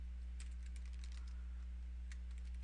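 Rapid, irregular clicks of typing on a computer keyboard, in bursts with short pauses, fairly close and alone over a low steady hum.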